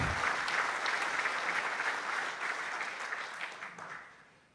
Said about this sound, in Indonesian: Tepuk tangan untuk komandan kita.